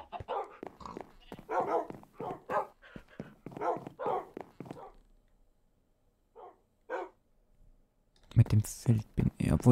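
Dogs bark in a Minecraft game, short game-style barks and yips mixed with steady speech from a person talking over the play, with a quieter stretch in the middle.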